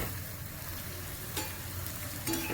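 Ras bara lentil fritters sizzling in white vegetable oil, a quiet steady frying hiss with a couple of brief stirring scrapes near the middle and end.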